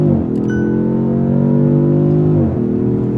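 Engine of a 2026 Dodge Charger Scat Pack, heard from outside: a loud, steady, droning exhaust note, close by, holding a constant pitch with a brief dip and recovery near the end.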